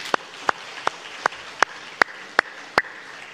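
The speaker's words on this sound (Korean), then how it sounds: "박수 한번 더 하시죠" Sharp claps ring out during a Korean Sunday church service, eight crisp strikes at an even, steady beat over a quiet room, sounding like a few hands clapping in unison.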